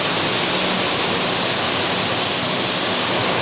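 Curug Gending Asmoro, a large waterfall near Ungaran, roars with a loud, constant broadband rush of falling water that stays steady and unbroken from start to finish.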